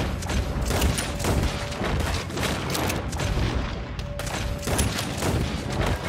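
Pistol gunfire in the Red Dead Redemption 2 video game, a dense, loud burst of overlapping shots and booms running continuously throughout, with no voices.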